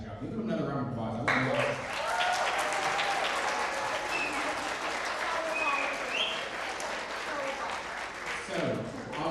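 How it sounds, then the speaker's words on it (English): Sustained audience applause fills a school percussion ensemble's spring concert hall, steady dense clapping from a large crowd lasting throughout, with a few voices and cheers mixed in near the end. "Give them another round of applause."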